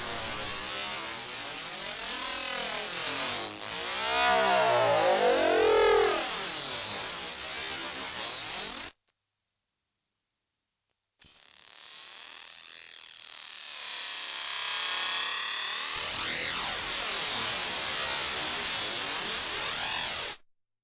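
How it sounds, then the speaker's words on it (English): A no-input mixer feeds back into itself, producing shrill, sweeping tones that bend and warble. The sound drops to a single thin steady whistle, then slowly swells back into a loud, shifting feedback texture, with no voices. "No input mixing is extremely expressive and playable."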